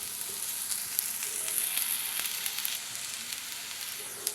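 Ponnaganti greens frying in ghee in a pan give a steady, close sizzle and crackle throughout, with faint spatters and no voices.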